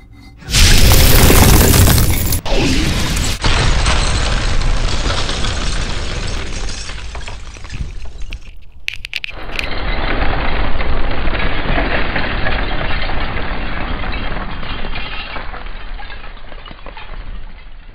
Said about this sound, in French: le cristal s'est brisé pendant l'explosion